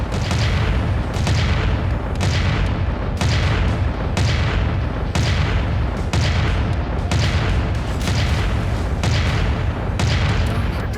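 Heavy mech weapons in MechWarrior 5: Mercenaries fire in a steady run of loud, booming volleys, about one blast every second, each crashing burst trailing off briefly before the next, with no talk over them.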